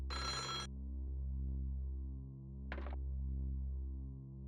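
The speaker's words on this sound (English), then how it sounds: "The phone was ringing somewhere else in the mansion." A telephone rings in a mansion in the video game Otogirisou: one burst of electronic ringing, then a shorter second ring a couple of seconds later, fairly faint over a steady low hum.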